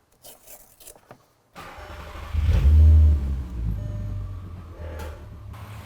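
After a few faint clicks, a Nissan Skyline R32's engine cranks and catches, briefly revs up loudly, then settles into a steady running idle close by.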